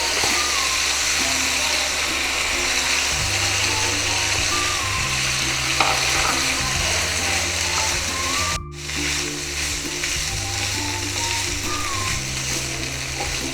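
Onion poriyal with coconut sizzles and fries steadily in a pan, with close scraping stir sounds throughout and a brief break partway through, while background music plays underneath.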